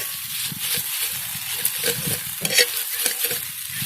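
Roasted green chilli kharda being stirred and mashed on a hot iron griddle held with tongs: rhythmic scraping and pressing strokes over a steady sizzle, close and fairly loud.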